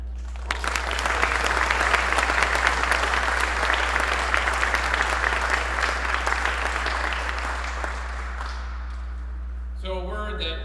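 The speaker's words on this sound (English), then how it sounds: "Let's give a round of applause for all of the family members here today." A long, steady round of applause from family members and guests fills a military change of command ceremony for the 921st Contingency Response Squadron, dense clapping holding for about nine seconds before fading out.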